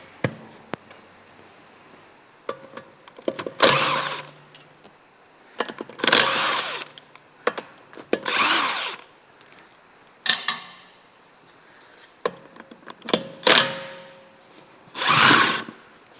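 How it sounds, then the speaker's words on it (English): A power tool whirs in about five short, loud bursts, with creaks and metallic clicks between them, while a wheel comes off a Mk5 Volkswagen Golf being rebuilt in a shed. "I'm going to start with taking the wheel off and go from there."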